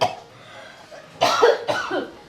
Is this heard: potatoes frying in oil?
no